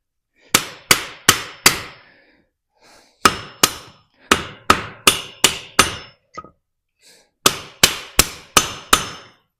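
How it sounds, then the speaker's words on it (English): Sharp, heavy blows of a rawhide mallet striking hot metal while forging a shovel, in bursts of four to five evenly spaced hits separated by short pauses. "So I'm going to try to hit this with a rawhide."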